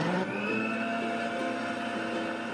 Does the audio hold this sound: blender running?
yes